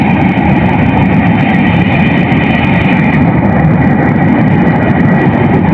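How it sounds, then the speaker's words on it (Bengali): A train passes nearby while people are out fishing, a loud, steady, dense roar of wheels and carriages rumbling continuously throughout, close and unbroken, with no talking. "এখন আমরা আসার সময় দেখতেছি শুধু ট্রেন আর ট্রেন। ট্রেনের ভিউ নিতেছি।"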